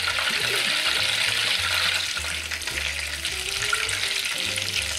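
Butter browning in a pan for vanilla-tonka financiers gives a steady, dense sizzle and crackle that keeps going throughout, with low bubbling underneath.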